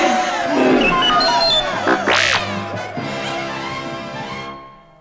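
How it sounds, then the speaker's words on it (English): Rebels and small furry Hoojibs cheer as a crowd while Chewbacca lets out a rising victory roar, a dense, layered, loud burst of voices and a howling cry that fades out at the end. "Cheering rebels and Hoojibs rushed into the cave as Chewbacca gave a victory roar."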